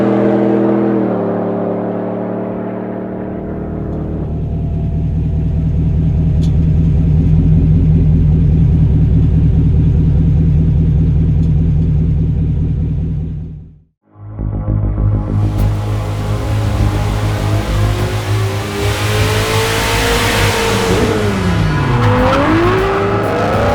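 A supercharged 2020 GMC Sierra pickup with the Hennessey Goliath 700 upgrade roars loudly as it accelerates, its engine rising through gears, cutting out briefly, then returning with a strong revving drone and tire noise.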